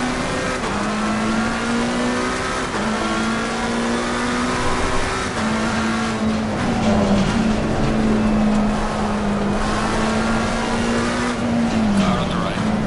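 Race car engines in the Assetto Corsa racing game, with BMW and AMG cars. Loud, close engine whine holds a steady pitch, climbs through gear changes and dips with brief tire noise during an overtake. A driver talks intermittently over the engines.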